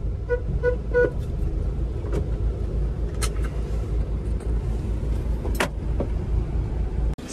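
A school van's horn gives three short toots in quick succession over a steady low engine rumble inside the vehicle.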